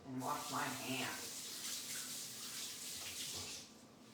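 Hands scrubbed under a running kitchen tap, a steady close hiss of water splashing into a sink for a few seconds, with a faint voice or clatter near the start.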